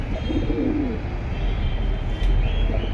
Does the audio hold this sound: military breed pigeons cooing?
yes